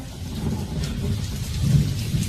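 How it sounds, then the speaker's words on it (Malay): Heavy rain pours steadily with low rumbling thunder underneath, a continuous dense roar that swells slightly toward the end, with no voices present. "ni tengah hujan lebat"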